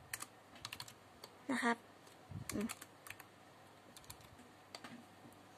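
Someone types a command on a computer keyboard while working with an Arduino, producing quiet, quick key clicks in short clusters, with someone speaking briefly.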